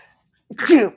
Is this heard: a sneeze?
yes